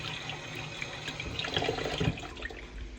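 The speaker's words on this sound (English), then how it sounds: "So let me rinse my hands off." Tap water runs steadily over hands being rinsed at a kitchen sink during meat seasoning, a continuous close splashing with brief heavier splashes partway through.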